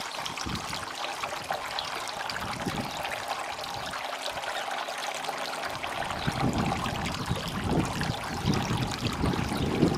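A garden water feature trickles and splashes continuously, a close, steady watery patter lasting the whole stretch, with no voices.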